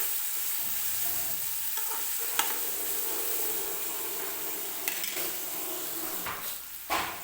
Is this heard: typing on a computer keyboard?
no